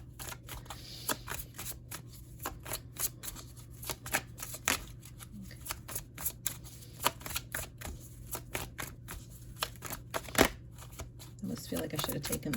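Tarot cards are shuffled by hand in a quiet room, giving repeated sharp riffling clicks and soft slaps at an uneven rhythm, close and fairly faint, with a voice talking at times.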